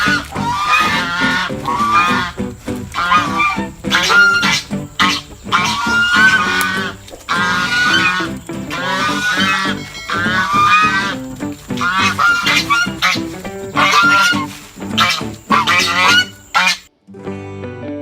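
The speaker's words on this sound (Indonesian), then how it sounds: "Hewan yang pertama adalah angsa." Farm geese honk loudly and repeatedly, with many overlapping nasal calls in an almost continuous chorus before the sound cuts off abruptly at the end.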